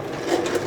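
A domestic sewing machine back-stitching the start of a seam on a fabric tote bag, giving a short, steady mechanical whir of stitching at close range with no talk.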